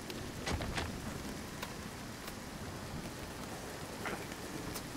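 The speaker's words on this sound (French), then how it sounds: "Ah mince, il grêle." Hail falls in the survival video game Nightingale, a faint, steady hiss of dense patter with scattered sharper ticks, continuous and distant, with no one speaking.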